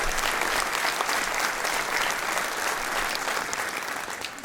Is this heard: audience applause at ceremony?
yes